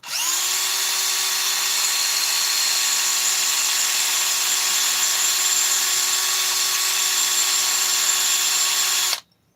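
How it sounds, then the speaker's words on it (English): A high-pitched Dremel rotary tool whines steadily for several seconds at close range, then cuts off abruptly. "Somehow the sound of that Dremel makes it."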